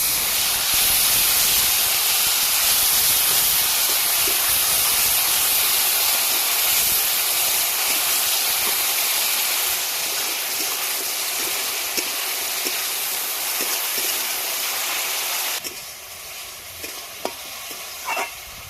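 Onion paste hitting hot oil with whole garam masala: a loud, dense, steady sizzling hiss that holds for most of the time, then drops sharply to a quieter crackle with occasional stirring clicks.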